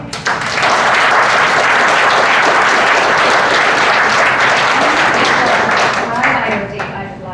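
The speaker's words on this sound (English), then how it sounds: "we have a round of applause to our guest speaker here, please" An audience gives a guest speaker a sustained round of applause, dense, loud and steady clapping from a large room of people that tapers off toward the end.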